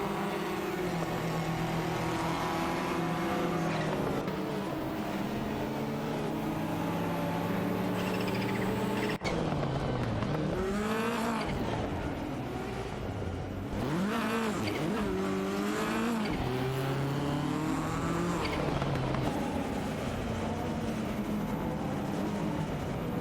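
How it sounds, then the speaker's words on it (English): Race cars in an AI-driven racing video game roar steadily throughout, engine tones rising and falling as they pass and shift, with a sharp cut partway as the scene changes. "Automobile dashing away, buckle up, cause we're about to watch some AI racing madness"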